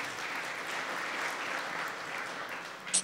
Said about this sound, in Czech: Zatleskejme bronzové medaily.